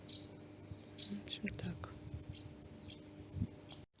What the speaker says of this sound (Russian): Какие-то насекомые стрекочут, птички щебечут.